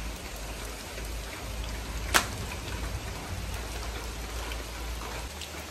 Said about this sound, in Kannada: ಎಷ್ಟು ಜೋರು ಮಳೆ ಗೊತ್ತಾ?